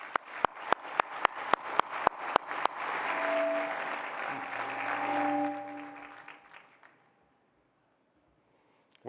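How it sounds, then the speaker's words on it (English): An audience at an annual dinner claps enthusiastically. Scattered individual claps build into a full, sustained round of applause lasting several seconds, then fade out to near silence. "Let's give them all a round of applause"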